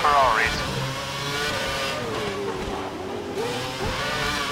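Ferrari race cars at the Budapest race in a racing game, engines revving and shifting with rising and falling pitch as they run close, a sharp whine at the start, under steady track noise.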